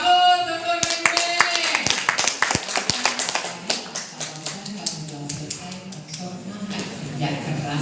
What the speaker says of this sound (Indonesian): kita beri aplaus untuk Bebe